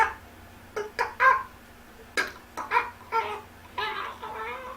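A voice imitates glitching video game music from Assassin's Creed Unity, producing stuttering, choppy warbles and broken vocal bursts with short gaps, fairly close and moderately loud.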